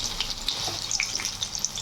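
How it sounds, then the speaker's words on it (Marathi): Potato-stuffed chilli bhajis fry in oil in a wide kadai, giving a soft, continuous bubbling sizzle with small crackles. It is quiet and heard alone, with no voices. "आता दुसरी साईड आपण तळून घेणार आहोत."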